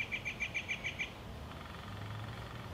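Red-bellied woodpecker calling in the woods, a quick series of about seven sharp, evenly spaced chirps close together, then quiet with a faint low hum.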